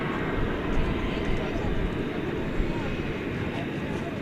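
An aircraft at DFW Airport taxiing toward takeoff at night, a steady broadband engine roar that holds constant and fairly loud for the whole stretch.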